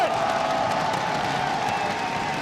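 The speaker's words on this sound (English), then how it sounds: "And the crowd loves it." A large arena crowd at the Clash Royale League World Finals cheers and applauds steadily, a dense wash of noise with a faint whistle-like tone, loud and continuous throughout.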